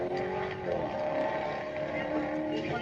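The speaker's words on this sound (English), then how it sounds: "The car sound good, I ain't gonna lie." A steady car engine drones loudly throughout, with a muffled voice faintly underneath.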